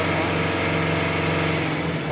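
A Tata 1512-CRX BS-4 truck with a four-cylinder turbo diesel engine revs hard with the accelerator held fully down, giving a steady, loud, continuous drone close by.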